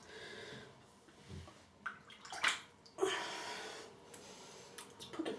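Water runs from a tap in short bursts to wet a soap shaving lather in a bowl, quiet and close with splashy surges and drips.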